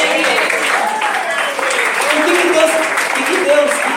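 A church congregation applauds during a worship service, sustained clapping blended with voices and cheering rising and falling over a few seconds.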